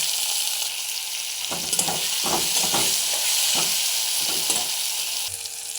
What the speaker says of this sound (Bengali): বড় সাইজের পেঁয়াজ এবং দুটো কাঁচা লঙ্কা একটু ভাজবো